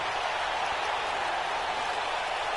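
A dense arena crowd roars steadily and loudly in WWE 2K19 during a wrestling pay-per-view match, a continuous wash of cheering with no breaks.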